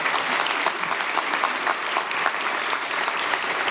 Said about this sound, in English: So a brief round of applause for those.